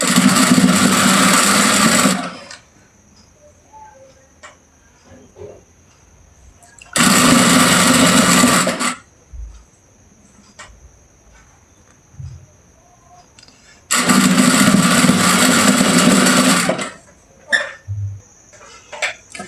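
An electric sewing machine stitches kameez strips in three loud bursts of two to three seconds each, separated by quiet pauses with faint handling clicks and fabric rustles.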